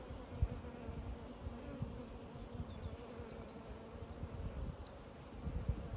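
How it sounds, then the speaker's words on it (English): Honey bees buzz steadily and close around open beehives during a hive check, a dense continuous drone with occasional louder passes near the ear, no talking. "Lots of bees."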